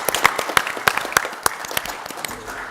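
Applause at a city council meeting in Temecula, a modest group clapping in a loose, distinct rhythm, individual claps audible and gradually thinning out over a few seconds.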